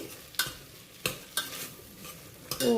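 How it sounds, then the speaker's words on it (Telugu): Sweet corn sizzles softly in butter in a pan, a steady low frying hiss broken by a few sharp clinks of a utensil stirring against the pan. "ఇది బటర్లో ఫ్రై అవుతుంది"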